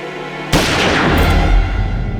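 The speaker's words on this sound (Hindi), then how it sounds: "यहाँ गोली चली है।" A single loud, close gunshot bursts out suddenly in a TV drama scene and rings out with a long booming decay, with no voices heard.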